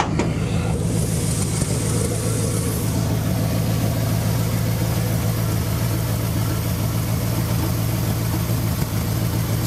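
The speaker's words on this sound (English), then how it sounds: "As far as the engine goes, I'm going to start it up. Starts right up." A 1960 Pontiac Ventura with a 389 cubic inch V8 and two-barrel carburetor turns over briefly and then settles into a steady, loud, low rumbling idle that holds evenly throughout, with no talking.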